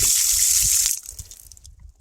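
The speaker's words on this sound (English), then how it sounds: "There's a valve, and you turn the valve on, and that'll give you water." Cold well water running from a valve tap on a trail in Big Sur, a steady hiss that cuts off partway through, followed by faint drips and splashes.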